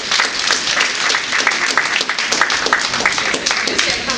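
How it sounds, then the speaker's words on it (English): Sustained audience applause fills a hall after a police officer is introduced at a community gathering, steady dense clapping throughout with sharp individual claps standing out. "Give her a nice round of applause."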